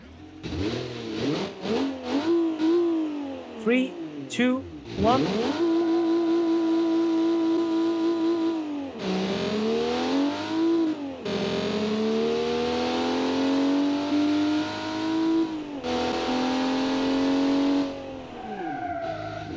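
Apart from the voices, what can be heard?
car engine revving in a video game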